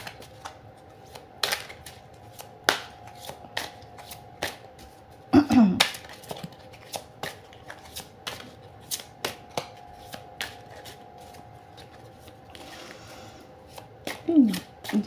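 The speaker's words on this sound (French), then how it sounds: "Je le mélange un petit peu et ensuite on y va pour les 3 cartes." Tarot cards being shuffled by hand, giving a run of short, crisp riffling clicks and soft slaps at an irregular pace, fairly close and quiet, with a couple of brief voiced moments in between.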